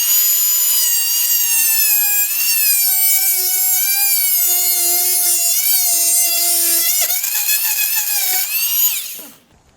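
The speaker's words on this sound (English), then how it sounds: "we're gonna take a good blade, a wood cutting blade, and we're gonna cut this lath" A power saw fitted with a wood-cutting blade slices through lath in a lath and plaster wall, a loud, steady high-pitched whine with shifting pitch that runs for about nine seconds before cutting off abruptly.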